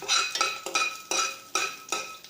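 A spatula stirs fenugreek seeds dry-roasting in a wok without oil, making six quick rhythmic scraping, rattling strokes against the metal, close and crisp.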